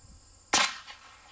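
A single sharp M1 carbine gunshot fired into watermelons cracks loudly and suddenly, then decays with a brief echo tail. No talk.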